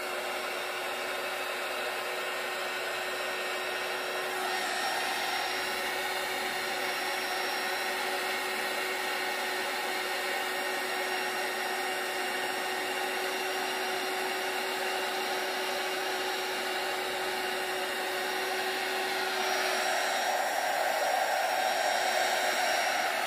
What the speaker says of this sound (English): Right, so my heat gun. I'll just warm up a second before I actually put it near.